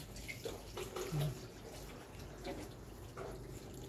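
Fresh water overflowing in a backyard garden in the province, a steady close splashing flow like a filling tub, moderately loud and continuous.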